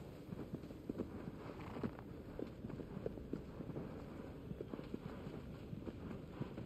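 A horse's hooves clip-clop steadily in Shadow of the Colossus, a quiet, regular run of soft hoof beats over a faint windy background.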